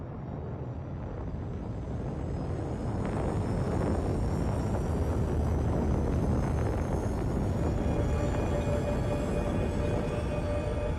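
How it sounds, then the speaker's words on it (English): Spaceship quantum drive in the Star Citizen game, a loud continuous roaring whoosh with rising whining tones that builds and holds throughout, no voices. "Damn quantum drive. I hate that noise."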